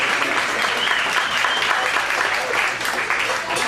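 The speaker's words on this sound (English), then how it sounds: "Everybody give her a big round of applause." Audience at a mentalist's show gives a volunteer a loud, dense round of applause, steady and close, with a few whoops mixed into the clapping throughout.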